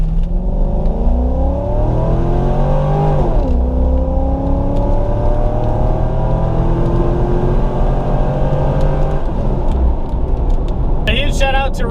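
Rear-wheel drive two-door sports car, traction control off, driven hard on rain-soaked roads: the engine revs climb through several gears with shifts, a loud close interior roar, ending in a brief high whine.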